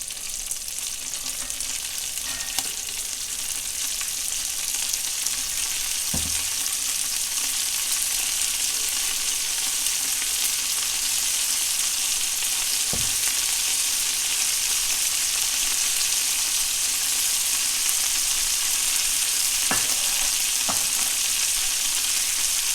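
Celery, carrots and onion fry loudly in a pot for minestrone, a dense, continuous sizzle with a few occasional utensil knocks and scrapes, close and without voices.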